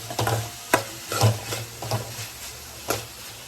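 Capsicum being sautéed with mixed vegetables in a pan for veg atta noodles: scraping stir strokes with a low steady sizzle, several distinct spatula knocks against the pan at irregular intervals, close and moderately loud, no talking.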